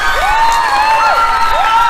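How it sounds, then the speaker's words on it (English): A live audience cheers and whoops loudly throughout, with rising and falling vocal shouts over a dense wash of crowd noise. "I'm so grateful for all of your clapping."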